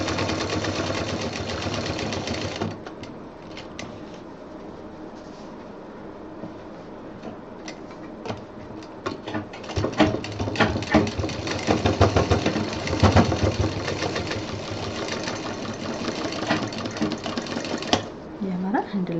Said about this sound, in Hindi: हैंडल को ज़रा मजबूती से 2-3 बार